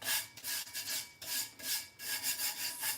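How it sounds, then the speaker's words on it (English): Hands rub glitter off a geode-style tumbler in rhythmic back-and-forth strokes, a close, dry scratchy rasp repeating about every half second. "I don't like all this rubbing off stuff"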